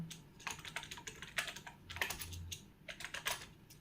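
Quiet, close keyboard typing as a terminal command is entered on a computer, a steady run of quick soft key taps with small gaps and no voices.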